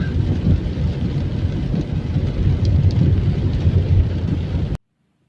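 Steady rain falls outdoors at the entrance to a village in the early evening, a loud, dense wash of noise that runs unbroken for several seconds and then cuts off abruptly.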